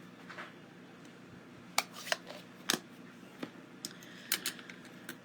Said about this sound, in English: I'm just going to trim that end off and a little bit of this end off